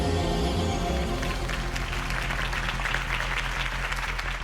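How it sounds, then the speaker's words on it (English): A crowd bursts into sustained, dense applause after Harvey Dent's campaign speech in Batman: The Telltale Series, loud and continuous clapping swelling over fading background music. "If only Mr. Wayne, my campaign's largest backer, could have heard that applause"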